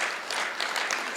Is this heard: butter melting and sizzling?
no